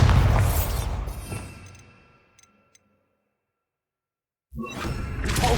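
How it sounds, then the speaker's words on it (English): A Bombarda explosion spell in Hogwarts Legacy: a loud blasting boom that rumbles and fades into near silence with a couple of faint ticks, before another heavy burst of noise kicks in. "Bombarda."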